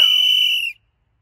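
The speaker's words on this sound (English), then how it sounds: "They made such a noise that Michael came running, waving his arms and blowing his whistle." A single sharp, shrill whistle blast sounds loud and clear for under a second, then cuts off into silence.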